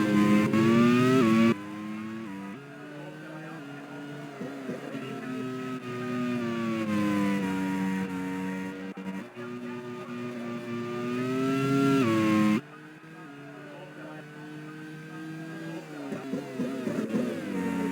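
Race cars overtake in a Grand Prix racing game, their engines whining loud and close with rising and falling pitch as the cars shift gears, one car passing the other.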